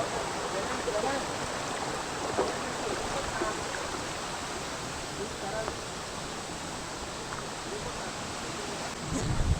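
A small forest waterfall near Umrad, Peth, gives a steady, even rush of falling water, soft and continuous from start to finish with no other distinct sounds.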